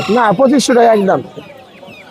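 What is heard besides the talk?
Polish cap rooster clucking at a chicken market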